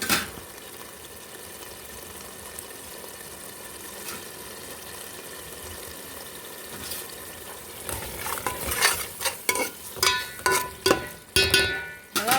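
Mutton gravy for Andhra-style green spicy biryani sizzles steadily in a pan, then a spoon scrapes and clatters against the metal in quick, irregular strokes toward the end, loud and close.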